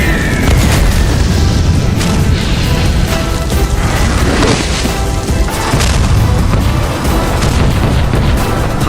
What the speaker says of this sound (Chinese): 外面的炮火越来越近了